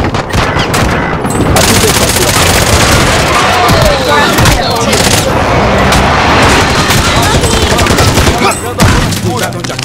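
Dense, loud automatic gunfire and bursts of shots rattle almost without pause through a chaotic battle royale video game firefight, with players' voices talking underneath.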